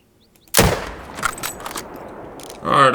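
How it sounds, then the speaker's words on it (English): A hunting rifle in the game theHunter: Call of the Wild fires once at a whitetail deer. The close, sharp blast is followed by a long, fading rumble of echo, and a voice comes in near the end. "I just shot a diamond potential whitetail"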